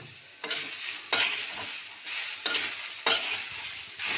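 A spatula scrapes a pan of halwa paste made with cashews and raisins as it fries, giving five or six rhythmic stirring strokes about half a second apart over a steady, close sizzle, with no talk.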